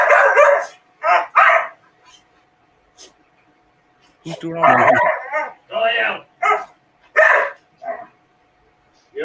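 A dog barks in sharp bursts indoors, several loud barks in clusters with short gaps, mixed with a person speaking over them.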